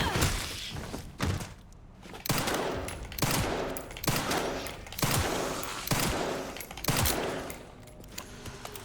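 Gunfire in the survival horror game Resident Evil Requiem, a series of heavy, evenly spaced shots roughly every second, each a sharp thump with a short tail, loud and close, no talking.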